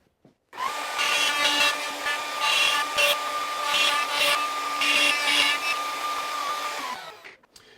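A woodworking machine cuts through a board for a bath vanity, its loud whining motor and rasping cut starting abruptly and running steadily for about six seconds before spinning down, with no talk.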